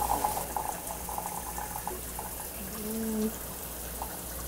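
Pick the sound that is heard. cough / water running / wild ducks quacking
water running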